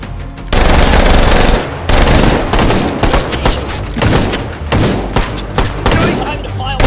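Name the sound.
gunfire in the video game H3VR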